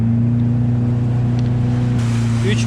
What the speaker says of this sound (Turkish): Şimdi biraz daha gaz veriyorum